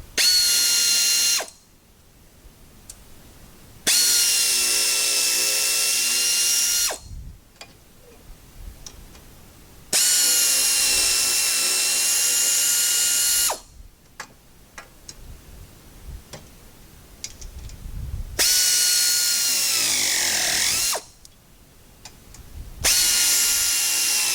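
A power tool drives bolts for a Wild Boar rear bumper on a Polaris Ranger XP1000, sounding in four loud, sustained whirring bursts of a few seconds each, separated by quieter clicks and handling noise, with one falling pitch near the end.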